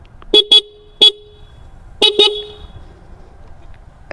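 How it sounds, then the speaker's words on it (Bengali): Dual horns on a Suzuki Gixxer motorcycle honk in short paired blasts, five sharp loud toots in groups with quiet gaps, close up and without talk. "এই পাশে হর্ন লাগাইছি একটা, এর আগে একটা হর্ন ছিল, এখন হচ্ছে 2টা"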